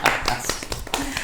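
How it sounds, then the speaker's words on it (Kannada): Brief clapping from a small group at a Navarathri home quiz game in Belagavi, a few scattered claps under speech, lasting about a second. "ಬರೀ ಚಪ್ಪಾಳೆ"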